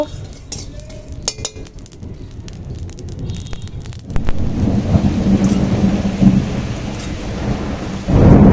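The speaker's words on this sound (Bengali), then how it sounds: "আকাশ বাপরে কি কড়কড়া পড়ছে" A heavy rumble of thunder builds and rolls on through steady rain, following a few light clinks of kitchen utensils at the start, the storm growing louder and closer toward the end.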